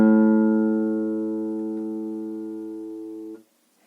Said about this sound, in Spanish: la quinta